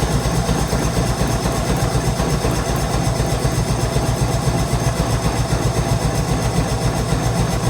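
A restored 1960s Evinrude Lark III outboard motor runs with an even, pulsing low rumble that holds steady and close throughout.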